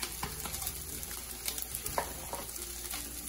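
Spring onions sizzle and crackle in hot oil in a pan, a steady close frying hiss with small pops and occasional stirring clicks throughout, no voices.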